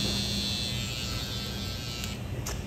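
Electric hair clippers just sprayed clean and oiled, running with a steady, continuous close-up motor buzz and no voices.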